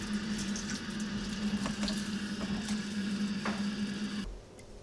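Water poured into a pot to cook oats in a home kitchen, a steady running, filling stream with a low tonal hum beneath, continuous for about four seconds before stopping abruptly.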